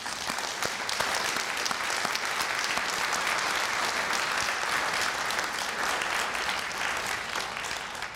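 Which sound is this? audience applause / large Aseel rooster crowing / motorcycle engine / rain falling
audience applause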